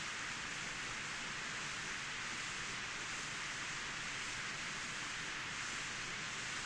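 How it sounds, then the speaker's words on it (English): Steady rain falls in a scene in the video game Deltarune, a constant even hiss with no breaks or separate drops across the whole stretch. "Sounds like the rain's coming."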